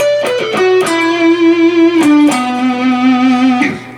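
Distorted electric guitar lead phrase, played alone with picked notes, a bend, a slide down and sustained vibrato on the held notes.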